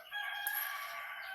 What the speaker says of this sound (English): if you can hear me over the roosters